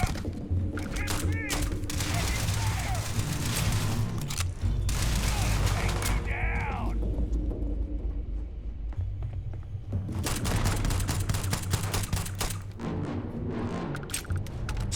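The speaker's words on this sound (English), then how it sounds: "Silence pistol doing wonders." Suppressed pistol fire from Starfield, a series of muffled shots in quick bursts over a dense game backdrop of thumps and effects, loud and close, with a pause in the middle before more shooting.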